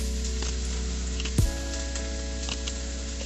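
A spoon scrapes the skin off a ginger root in a kitchen, giving a soft, steady rasping close by, with one sharper knock partway through.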